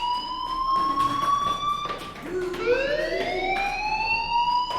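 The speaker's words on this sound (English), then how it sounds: "do you hear that fire alarm?" A fire alarm wails continuously in the Life is Strange video game, its rising and falling electronic siren tones steady and prominent over a low background, with no voices.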